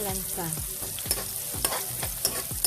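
Pork and ginger fry in a hot pan, a steady sizzle broken by repeated scraping strokes of a spatula as the meat is stirred, close and alone with no talk.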